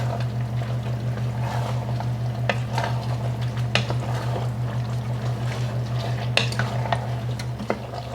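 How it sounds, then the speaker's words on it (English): Chili being stirred in a cooking pot, soft scraping and clinks of the spoon against the pot repeating at an irregular pace over a low steady hum, close and fairly quiet. "We're going to give her a stir."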